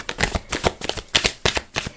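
Tarot cards being shuffled by hand, a close run of about ten quick, crisp riffling bursts in an irregular rhythm, loud and alone.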